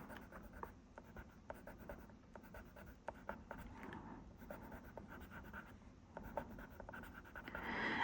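Derwent colored pencil scratching across paper while light green is filled into small leaves, a quiet, close, steady stream of short strokes with brief pauses.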